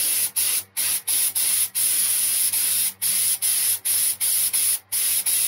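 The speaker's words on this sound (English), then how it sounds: "we're spraying" An HVLP spray gun sprays gel coat in a series of short, sharp hissing bursts separated by brief pauses, loud and close with no speech.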